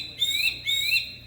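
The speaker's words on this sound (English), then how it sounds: "So this is an eagle whistle." A small traditional Native American eagle whistle gives two shrill, piercing rising whistles in quick succession, close and clear.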